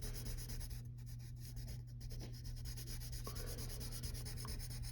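The side of a pencil or crayon rubs back and forth on paper, coloring in a cartoon character's hair, a continuous soft scratchy rasp heard close but faint.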